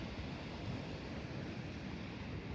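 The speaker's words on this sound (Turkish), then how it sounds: "Dalgaların sesinden ne, her ne kadar sesim duyulmuyorsa da duyuluyor da olabilir." Sea waves at the seaside roar in a continuous, fairly loud wash of surf with wind buffeting the microphone, steady with no voices heard.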